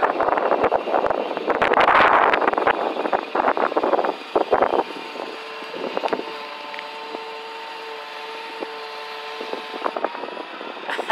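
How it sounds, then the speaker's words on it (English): Gusty wind buffets the microphone outdoors beside a 2018 Kawasaki Teryx 4 side-by-side on 30-inch tires, loud rumbling bursts over the first few seconds, then a steadier low roar with a faint engine drone underneath. "A bit breezy here."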